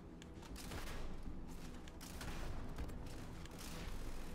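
A big gun fired in a video game, dense rapid bursts of heavy gunfire rolling continuously with booming low end, fairly faint, no speech.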